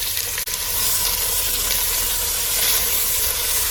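Thinly sliced onions frying in oil with cinnamon, clove, cardamom and star anise for a seafood dum biryani, a steady close hiss and sizzle broken by one brief dip near the start.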